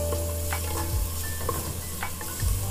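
Fish frying in a pan for coastal village-style fish curry sizzles steadily and close, with a few scraping stirs and clinks of a utensil against the pan, and no voices.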